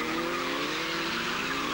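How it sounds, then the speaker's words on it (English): Van Diemen RF88 Formula Ford 1600 race car at Mallory Park, a loud steady engine roar with a tyre-squeal edge as it passes close by. "here comes the championship leader, number 41, Kurt Luby from Bolton in his Van Diemen RF88."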